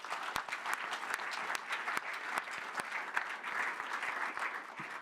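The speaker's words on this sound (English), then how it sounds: "I would love you to all give a big round of applause." Moderately faint audience applause for the event team at a digital health conference, with distinct sharp individual claps over a thinner wash of clapping that stays steady throughout.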